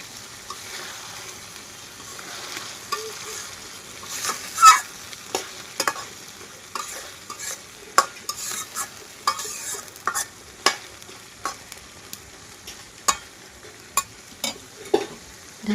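Chicken curry meat sautéed and stirred in a pan for a village-style curry, with a steady low sizzle broken by frequent sharp scrapes and knocks of the spoon against the pan, close and moderately loud, no talking.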